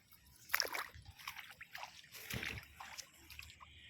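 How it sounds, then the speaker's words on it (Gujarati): Rainwater draining out of a waterlogged onion field after heavy rain, faint trickling and splashing with a few brief louder splashes against a quiet background. "પાણી જઈ રહ્યું છે"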